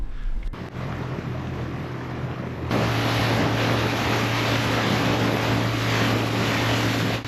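A motorboat heading out to sea near an uninhabited exotic island roars steadily, a loud broadband rush of engine and water that rises sharply a few seconds in and holds, with no speech.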